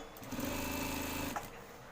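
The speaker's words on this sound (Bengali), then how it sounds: "ব্যান্ডের সাথে মিলিয়ে সেলাইটা এভাবে নিয়ে আসবো পেস্টিংয়ে যাতে সেলাই না ধরে" A sewing machine stitches a shirt collar band, a steady close mechanical whir of the running needle for just over a second, then stopping to a quieter hum.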